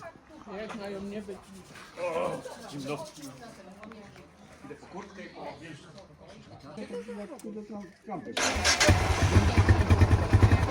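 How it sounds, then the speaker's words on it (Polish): People talk outdoors at a barbecue rally in Częstochowa over a low background rumble, then a motorcycle engine starts and runs loudly and steadily, roaring close by. "Prawdziwy motor, a nie tam"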